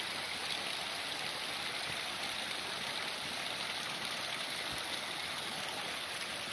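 Thermal water stream flowing at the Moneasa spa resort, a steady continuous rushing hiss that stays even and unbroken throughout.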